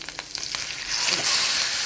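Fish frying in coconut oil with curry leaves in a pan makes a loud, close sizzle that swells into a dense hiss after a few quick crackles; no one speaks.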